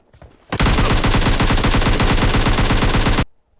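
Sustained automatic gunfire in the PUBG Mobile Lite video game, a loud rapid burst of shots lasting nearly three seconds before cutting off abruptly.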